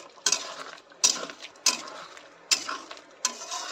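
A spoon stirs a potato and patol curry in a pan, scraping and knocking against the metal in five distinct, evenly spaced strokes with quieter gaps between them.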